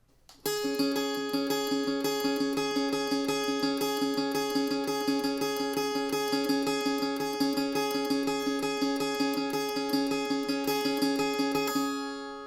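A guitar picks out a fast, repeating bridge riff, with even, rapid plucked notes that continue steadily for about ten seconds before stopping.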